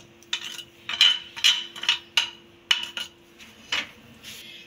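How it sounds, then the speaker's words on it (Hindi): A spoon scraping and clinking against a bowl while spices are mixed into a lentil pizza batter, a series of quick irregular metallic taps and scrapes, close and fairly quiet, with no talking. "अच्छी तरह से इसे मिक्स करेंगे।"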